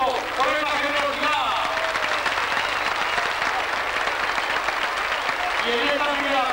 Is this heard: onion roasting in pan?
no